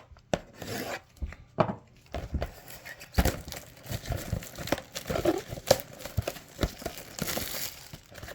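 Basketball trading card packs (Panini Select) being torn open by hand, a run of close, crinkly foil rips and crumpling wrapper rustles in irregular bursts, with no talking.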